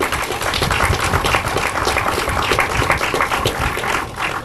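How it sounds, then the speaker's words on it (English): Outdoor crowd applause at a city bridge and dam dedication, loud dense clapping with low rumbling noise mixed in, holding steady across the whole moment. "Give them a round of applause."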